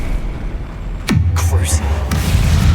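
A Confringo fire spell goes off in Hogwarts Legacy: one sudden booming blast about a second in, with a sweeping whoosh and a rumbling low tail, then a second sharper burst near the end.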